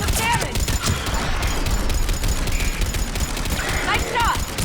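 Gunfire in Mass Effect 3 crackles continuously in a busy battle, with rapid shots and whizzing effects piled on top of each other, loud and close, while faint voices come and go under the din.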